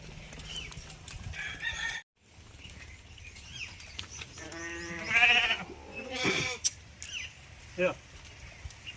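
Sheep from a village flock bleat several times at close to mid distance amid farmyard noise, with people talking nearby and a rooster-like call in the mix.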